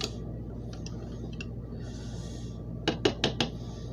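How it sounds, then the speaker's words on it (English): Fermented turmeric bug stirred with filtered water in a container gives a few quick, bright clinks near the end over a steady low hum. "3 tablespoons of water, filtered. Give it a bit of a stir."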